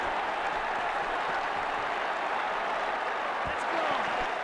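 A cricket crowd at an ICC Champions Trophy match between New Zealand and Australia applauds a boundary, a dense, steady wash of clapping and cheering that holds loud throughout.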